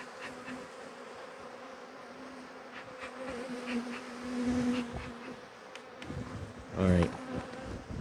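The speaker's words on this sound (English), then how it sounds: "There's a lot of bees there." Dense swarm of honey bees buzzing steadily as a hive is shaken down during a honey flow, a continuous close insect drone with a few louder thuds and knocks near the end.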